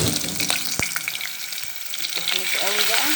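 A spoonful of ghee heating in a pan for pigeon rice, crackling and sizzling steadily up close, with a sharp utensil tap and faint voices in the background.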